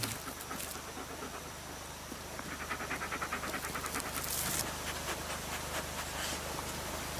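A dog pants steadily in quick rhythmic breaths, close and fairly loud, set within a music video over a constant hiss, with no voices.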